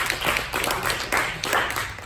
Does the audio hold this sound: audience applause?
yes